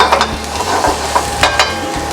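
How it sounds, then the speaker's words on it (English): Minced garlic sizzles in a frying pan heated to 350 degrees, giving a loud, close, continuous crackling hiss broken by faint stirring scrapes. "We start with a real 350 degrees heat pan. We're gonna add some minced garlic."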